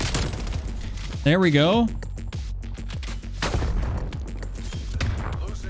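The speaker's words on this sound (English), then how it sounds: "my artillery's actually just getting some kills right here" A Black Ops Cold War artillery strike hits in repeated heavy thuds and bursts across a loud multiplayer soundscape, with a brief whistling sweep in between and someone talking briefly.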